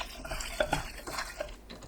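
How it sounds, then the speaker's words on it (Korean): Aged kimchi being tossed with cooking oil and sugar in a pan, soft wet stirring and scraping with a few light clinks of a utensil against the pan, quiet and close, with no talking. "팬에 묵은지, 식용유 2큰술, 설탕 반큰술 넣고 버무립니다"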